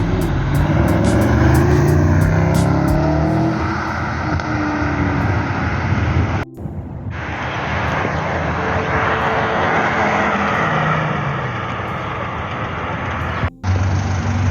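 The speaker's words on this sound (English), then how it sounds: "Here we got a 296 GTB." A Ferrari 296 GTB supercar passes on a London street, a loud sustained engine roar that swells and fades with short breaks, with no talking.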